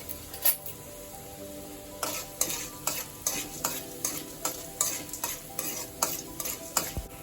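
A spoon or spatula stirs two dried red chillies in a frying pan, scraping in a steady rhythm of close, distinct strokes over a low background sizzle, with no talking.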